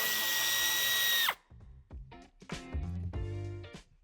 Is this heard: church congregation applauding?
no